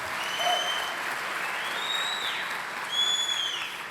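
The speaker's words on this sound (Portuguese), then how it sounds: "So, a round of applause for Pastor Celia" Steady applause from a church congregation at a revival service, a dense even wash of clapping with a few whistles cutting through on top, holding at a constant level for the whole stretch.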